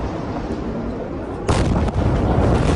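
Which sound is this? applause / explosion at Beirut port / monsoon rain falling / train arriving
explosion at Beirut port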